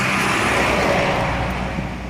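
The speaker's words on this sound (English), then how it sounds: "Excuse the noise in the background." Morning rush-hour road traffic at around 6 o'clock rumbles in a broad, steady roar of passing cars and heavier vehicles, loud and continuous with no talking.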